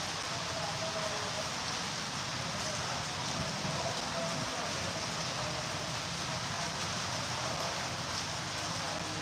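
Continuous rain patters and hisses evenly at moderate volume, a constant wash of sound with no talking.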